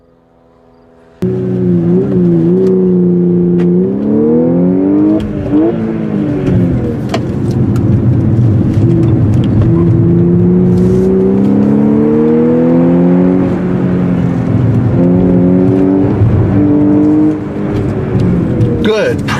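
A 2014 Audi S4 Quattro accelerates hard around a racetrack, its loud, close engine climbing through repeated rising revs with gear changes, a steady roaring drone throughout, with faint talk mixed in.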